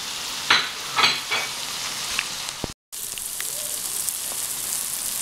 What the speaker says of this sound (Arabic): ونخلي الكل كيطيب مع بعضه حتى ينضجوا مزيان مزيان، ونضيف الكفته.